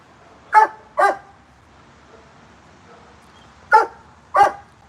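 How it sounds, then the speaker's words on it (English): A dog barks twice close by, pauses in near silence, then barks twice more. "Who are you barking at?"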